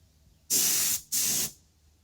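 Two close, loud bursts of hissing spray from a paint spray gun coating mag wheel centerpieces, each lasting about half a second with a brief pause between, in a quiet workshop.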